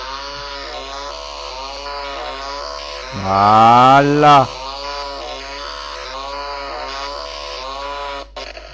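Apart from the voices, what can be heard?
chainsaw cutting a computer, video game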